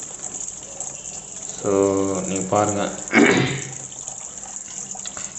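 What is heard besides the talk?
water filling semi-automatic washing machine tub from hose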